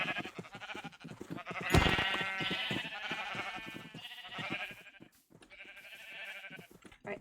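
Sheep in Minecraft bleat repeatedly in overlapping, wavering calls, fairly loud and close, with a brief sharp clatter near the start.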